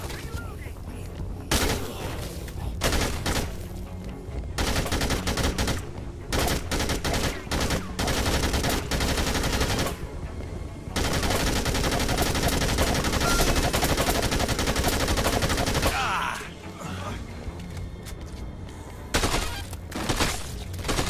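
Rapid machine-gun bursts and gunshots crackle loudly in Dead Rising 2 on PS4, coming in long sustained volleys broken by short pauses, with a player talking over parts of it.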